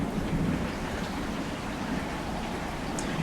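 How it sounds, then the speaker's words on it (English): Heavy rain pours down during a thunderstorm near a water tower, a dense steady roar of falling water with low rumbling underneath, heard outdoors and alone. "Look at them sheets of rain going down behind the water tower over there."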